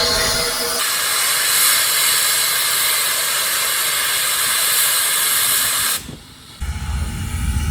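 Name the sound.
steam engine hissing at the Strasburg Railroad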